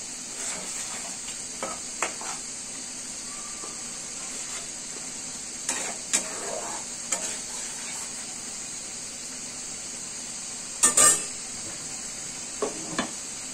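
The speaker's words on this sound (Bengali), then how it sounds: "হলুদের গুঁড়া, শুকনা মরিচের গুঁড়া, মশলাটি ভালো মতো কষায় নেব" Turmeric and dried chili spice paste sizzles steadily in a pan while a spoon stirs it, with a few louder scrapes and clinks; no one speaks.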